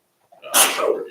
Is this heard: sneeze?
yes